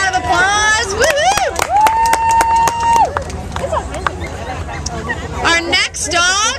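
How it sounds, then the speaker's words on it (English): Crowd at an outdoor dog fashion show cheers and whoops with scattered clapping, shrill whistles and calls rising over a bustling murmur, with a voice on a loudspeaker. "Give them a round of applause."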